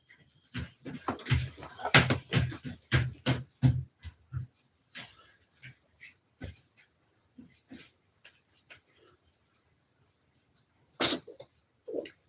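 A single sharp sneeze, apparently from a pet cat, bursts out loud and close near the end, after scattered clicks and rustles in a quiet indoor room during a live stream.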